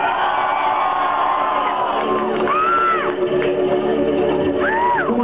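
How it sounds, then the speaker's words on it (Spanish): A live concert crowd at the Knitting Factory in Los Angeles shouts, whoops and cheers loudly and continuously, with rising yells standing out over the steady roar of voices. "Queremos escuchar el grito de la banda de Los Ángeles"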